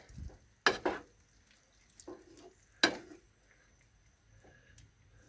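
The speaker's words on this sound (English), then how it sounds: "Break this mince up a bit." A utensil breaking up mince in a pan in a small campervan kitchen: a few sharp scrapes and knocks against the pan over a soft sizzle, close and sparse.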